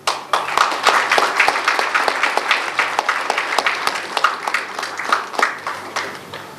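At the grand opening ceremony of a lovebird breeders' society in Karachi, the audience applauds as a committee coordinator is called to the stage. Individual claps stand out sharply within a loud, steady round.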